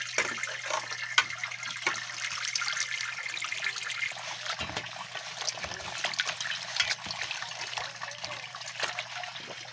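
Water trickles and splashes steadily as dahon leaves are washed by hand outdoors in a rural setting, a continuous close running stream with small irregular splashes and a low steady hum beneath, no voices.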